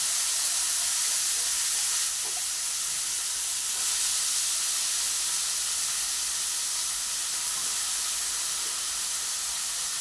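Food sizzles in hot oil, a steady dense hiss that holds evenly throughout without pause or break.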